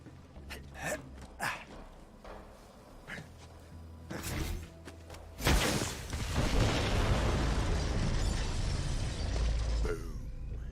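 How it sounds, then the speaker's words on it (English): A Borderlands 3 firefight in a forest: scattered sharp gunshots build to a loud, booming explosion that roars and crackles for several seconds, with debris and rumble continuing afterward. "The explosion echoed through the forest"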